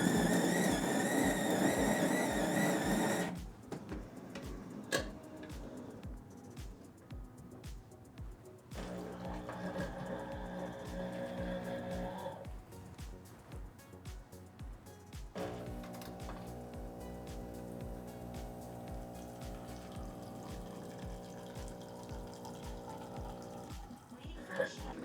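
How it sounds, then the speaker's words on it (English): A fully automatic coffee machine brews an espresso, starting with a loud burst of grinding followed by a steady pump hum and a sustained whirring tone as coffee flows into the cup, with no talking. "let's just go ahead and make an espresso here and start."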